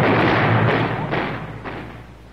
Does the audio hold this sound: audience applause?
no